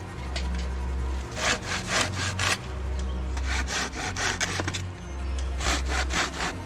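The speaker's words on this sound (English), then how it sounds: "even if it is just for sawing firewood" A hand saw cutting through firewood in steady back-and-forth strokes, rasping rhythmically and close by, with a brief pause between bursts.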